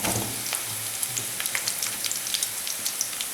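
Okra dropped into hot oil with golden-brown fried onions sizzles in a steady, close crackle, with scattered sharp pops spread through the few seconds.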